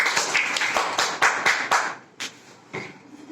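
A group of schoolchildren clap their hands in a classroom, giving a burst of sharp, rhythmic claps that slows into a few scattered final claps.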